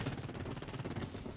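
Rapid automatic rifle fire from the video game Blacklight Retribution, a dense continuous burst of shots in quick rhythm, loud and alone for just over a second.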